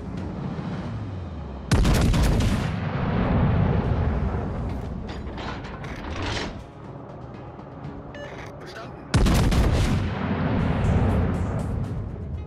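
Warship guns firing in the naval combat game World of Warships: Legends, with two sudden loud broadside blasts followed by long rumbling, clattering battle noise and a lingering roar.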